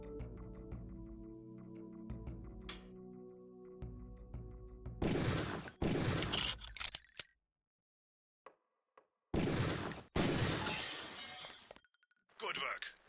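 Pistol shots fired at training targets in the video game Deus Ex: several sharp, loud bursts in separate clusters, with a calm instructing voice and quiet game tones heard between them.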